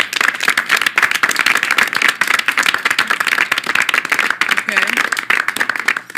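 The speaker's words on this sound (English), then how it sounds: "Show me through a round of applause, please." A studio audience on a talk show breaks into dense, rapid clapping, a bright crackling patter that carries on steadily throughout without dying down.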